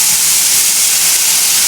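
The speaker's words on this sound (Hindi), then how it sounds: "The cooker is whistling." Steady, loud hissing steam from a pressure cooker whistle on a kitchen stove, a continuous bright rush of venting pressure with no break throughout.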